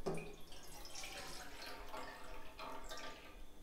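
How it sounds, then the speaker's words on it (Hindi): Two cups of water pour into a saucepan for homemade Rooh Afza sharbat, a faint, steady splashing trickle heard close and alone. "यहाँ पे मैंने ले लिया है सॉस पैन और इसके बीच में मैं 2 कप पानी डाल दूँगी"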